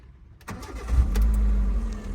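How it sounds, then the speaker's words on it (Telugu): A 2014 Hyundai i10 Sportz 1.1-litre petrol/LPG engine cranks briefly and catches, then settles into a steady, close idle with a low rumble. "ఒక్కసారి ఇంజన్ అనేది స్టార్ట్ చేసి చూపిస్తాను చూసుకోండి"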